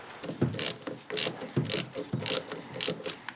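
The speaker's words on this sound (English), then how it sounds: "I love this bolt and socket trick for pulling things out, particularly like bushings like this." A bolt and socket trick pulls a rubber bushing out of a Toyota MR2 shifter assembly, heard as a rhythmic series of ratchet clicks in six or seven short bursts, close and fairly quiet.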